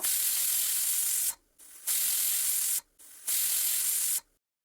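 A pressure cooker with its weight on vents steam while rice cooks, three loud, sharp hissing bursts of about a second each, separated by short quiet gaps, close and with no talk.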